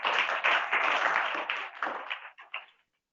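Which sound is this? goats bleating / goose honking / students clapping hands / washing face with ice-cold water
students clapping hands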